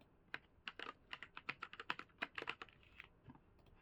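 Quick, quiet clicks of typing on a computer keyboard, a close, irregular run of keystrokes lasting a few seconds with no talking.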